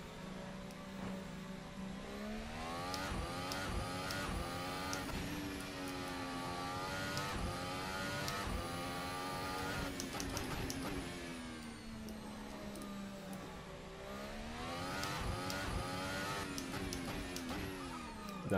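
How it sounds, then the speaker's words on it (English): An RSS Formula Hybrid 2018 open-wheel race car in Assetto Corsa, driven at Monaco, its high-pitched hybrid engine whining continuously and loud, revs rising and falling through gear changes and corners. "This car is the RSS Formula Hybrid 2018."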